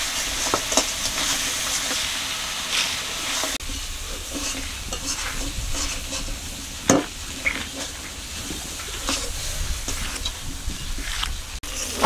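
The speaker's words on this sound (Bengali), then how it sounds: "আমার কাঁকড়াটা কষানো হয়ে গেছে" Crab being sautéed with ground garam masala in a pan sizzles and fries steadily for several seconds, with occasional stirring scrapes and clinks over a constant hissing bed.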